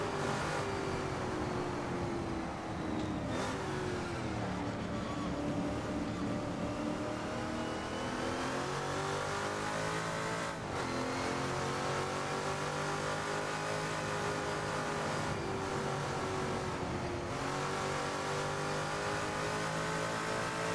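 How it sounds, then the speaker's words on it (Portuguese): A race car engine in the video game Assetto Corsa revs and drones continuously, pitch rising and falling as it accelerates and shifts, with no talking. "Até o barulho do motor é bem legal"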